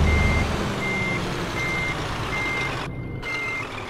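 Truck reversing in Scania Truck Driving Simulator, with a steady high-pitched backup beep repeating at an even pace about four times over a low engine rumble.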